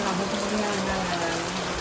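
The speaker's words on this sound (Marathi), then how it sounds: "पाऊस जास्त आलाय" Heavy rain falls in a forest near a Konkan village, a dense steady hiss of drops pouring down without letup for the whole short stretch, close and loud, with no voices over it.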